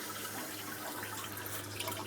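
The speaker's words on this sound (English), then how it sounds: "we're getting nice frothy bubbles, and it is actually working" A venturi pump froths water in an aquaponics pond, making a steady, low, continuous bubbling and gurgling that stays fairly quiet and even throughout.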